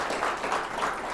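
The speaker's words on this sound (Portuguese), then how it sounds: "Vou pedir então uma salva de palmas para o André." A short burst of audience applause for a guest, a steady wash of many hands clapping at moderate volume with no speech over it.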